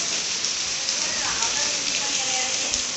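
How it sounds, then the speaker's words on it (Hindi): Hail mixed with heavy rain falling on outdoor stairs during a downpour in Bharatpur, a dense, steady hiss of pattering drops and small ice pellets, close and continuous without pause. "देखो ये जो बूंद टाइप दिख रहा है ना, ये ओले पड़ रहे हैं"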